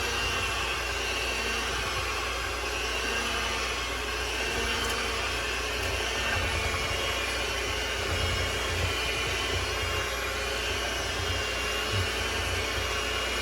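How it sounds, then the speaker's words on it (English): A stand mixer works a whole wheat bread dough, its motor giving a steady, close whir with no pauses and no talking. "Speed up the mixer a little bit."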